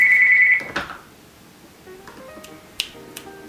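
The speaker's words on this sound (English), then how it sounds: "My phone's ringing." A mobile phone ringtone plays as a steady electronic tone that cuts off after about half a second, followed by quiet room noise and a few faint clicks and taps.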